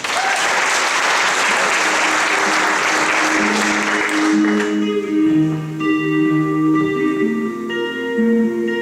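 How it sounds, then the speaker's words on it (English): A concert audience claps steadily for a singer at a fall choral concert, loud and sustained, then fades out as a piano begins playing sustained chords alone. "let's have a nice round of applause for Brooke Thone"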